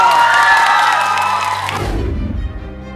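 A large audience at a Korean film event cheers and applauds loudly and steadily, the crowd noise thinning slightly toward the end.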